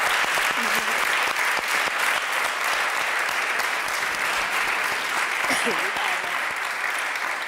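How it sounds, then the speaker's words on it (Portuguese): A studio audience at a Portuguese television talk show applauds continuously, sustained dense clapping at an even level with faint voices underneath. "António, acho que isto merece uma salva de palmas, este lindo casal"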